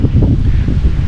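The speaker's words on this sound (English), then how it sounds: "a little bit of wind around" Strong outdoor wind buffeting a microphone in the northern goldfields of Western Australia, a loud, continuous low rumble and roar with no voices.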